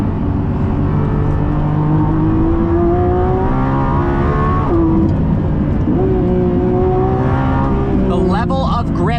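A Lamborghini Revuelto supercar's V12 engine accelerates hard, a loud, close rising engine note climbing through gears with shifts, heard from inside the car with a voice speaking over it.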